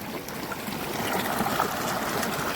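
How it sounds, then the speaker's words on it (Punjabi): Irrigation water pumped by an electric motor pump gushes steadily into a wheat field, a continuous broadband rushing and trickling wash heard up close, with no talk. "ਪਾਣੀ ਲਾਇਆ ਜੀ ਆਪਾਂ ਨੇ ਕਣਕ ਨੂੰ ਕਰਿਆ ਚੱਲਦਾ"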